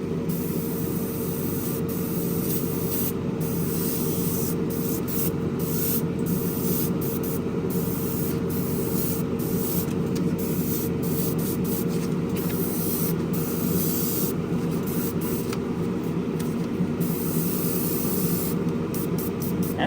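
A continuous hissing aerosol spray coating model car headers runs steadily throughout, close and loud, with no talking.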